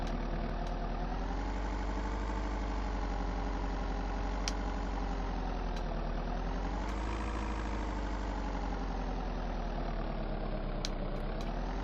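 A car engine drones on continuously while driving in VEIN. Its pitch rises and falls gently, and a few faint clicks sound over the top.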